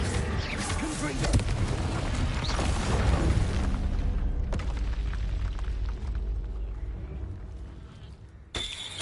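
Confringo spell explosions from Hogwarts Legacy hit with loud, booming blasts, a dense burst of impacts over the first few seconds that fades into a rumbling tail, followed by a sharp final crack.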